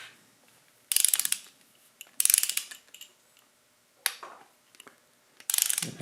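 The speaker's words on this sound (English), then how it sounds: "I've got the torque wrench set to 14 pounds." Torque wrench set to 14 pounds ratcheting while tightening bolts in sequence on a John Deere 755 tractor: four short, crisp bursts of rapid clicking separated by pauses, close and fairly loud with no talk.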